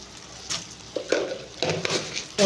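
Spice paste with tomato and a little sugar for potato curry (aloor dom) is stirred in a pan, with a spoon scraping and knocking in uneven strokes over a soft sizzle, close and moderately loud.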